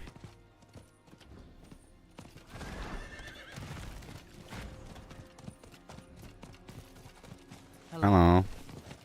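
Amid the Diablo 4 game soundscape, a horse gallops with muffled hoofbeats before a loud, close neigh near the end, while a voice talks over the action.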